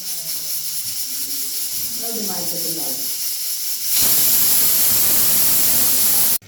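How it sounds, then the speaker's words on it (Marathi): A pressure cooker cooking toor dal lets out a loud, sustained hiss of escaping steam that starts abruptly after a few seconds of speech and runs steadily until it stops. "हे बघा इथे कुकरच्या शिट्ट्या झालेल्या आहेत"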